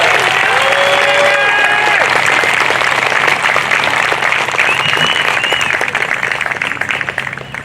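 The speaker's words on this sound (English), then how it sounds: "could I also ask for another round of applause for the Mill River High School Band?" Crowd applause at a Memorial Day parade and service in Wallingford, broad steady clapping with faint voices and a few whistles or cheers, thinning out and fading near the end.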